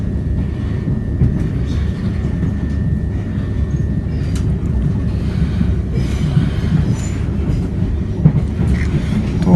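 A London commuter train near Clapham Junction rumbles steadily after emerging from an underground tunnel, a continuous loud low roar with faint rail clatter and no speech.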